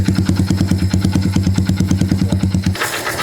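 Yamaha W175 motorcycle engine running close by at a steady idle, an even rapid thumping pulse that cuts off near the end into a brief hiss and clatter.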